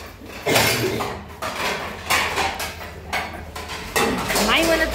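Pots and dishes clatter and scrape as they are scrubbed by hand in a busy hotel kitchen, irregular metallic knocks and rubbing close by, with voices talking over the work.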